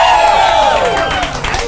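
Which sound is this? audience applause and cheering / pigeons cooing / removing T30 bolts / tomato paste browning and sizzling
audience applause and cheering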